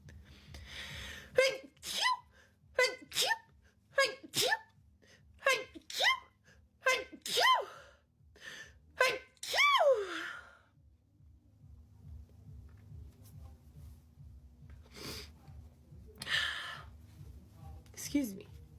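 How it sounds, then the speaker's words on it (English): A series of sharp, close human sneezes in a basement, about six in quick succession with gasping breaths between them, followed by quieter sniffs and a soft spoken remark. "Oh no, I have to sneeze."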